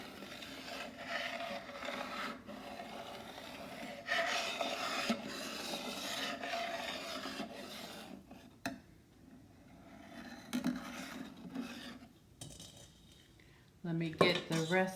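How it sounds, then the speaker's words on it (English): A spatula scrapes and stirs custard with sugar across the bottom of a pan while making vanilla ice cream, giving a steady close rasping that comes in bursts with brief pauses and a clatter near the end. "I like to use a spatula because it covers the bottom of the pan better than a whisk."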